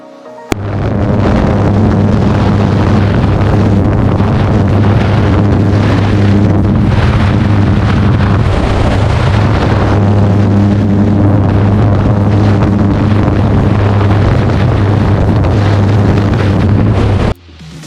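Three-axis ultralight aircraft in flight near La Baule-Escoublac, its engine droning loud and steady with strong harmonic tones and rushing wind noise, continuous from start to finish.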